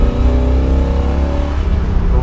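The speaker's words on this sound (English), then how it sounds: "Great exhaust note." A 1969 Chevrolet Camaro Z/28 V8 with sport exhaust revs hard and roars steadily close by, loud and deep, with a throaty rumbling exhaust throughout.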